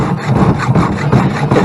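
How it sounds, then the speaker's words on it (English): An old, rust-prone hacksaw that sat in a wet barn cuts through the handlebar grip of a Kawasaki 1100 STX DI jet ski, giving a steady back-and-forth rasping stroke, loud and close, with no talk. "this is an old hacksaw that's been sitting around in the barn getting wet for a while"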